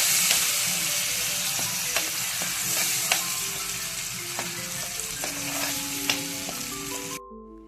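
Guava chutney hits a hot mustard seed and curry leaf tempering with a loud, steady sizzle and frying crackle, with a few stirring clinks along the way, before it cuts off abruptly near the end.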